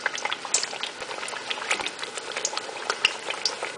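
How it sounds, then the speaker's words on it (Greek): Eggplant slices frying in hot oil for moussaka, a steady dense crackle and sizzle with sharp spitting pops scattered throughout, close and continuous without talk. "Σε καυτό λάδι θα προσθέσετε μέσα τις μελιτζάνες"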